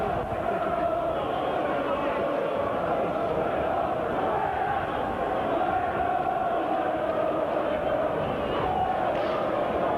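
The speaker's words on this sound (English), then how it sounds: "by the noise in the crowd, you think it was Hull that were winning" The crowd at a Wigan v Hull rugby league cup match keeps up a continuous loud roar and chant of cheering, with a commentator's voice faintly under the dense noise.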